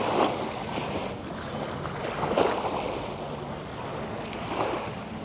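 Steady rush of sea waves with gentle swells rising and falling every couple of seconds, broad and continuous, with some wind buffeting the microphone.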